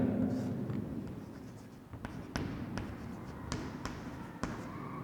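Marker or chalk writing on a board during a geometry lesson about a cone's slant height, heard as a series of sharp taps and strokes over a steady room hiss, fairly close, with no talk.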